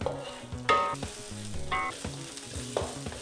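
Ground spice paste fries in coconut oil in a pan for a Kerala chicken curry, a close crackling sizzle with a few sharper bursts of spitting and some stirring, heard without talk.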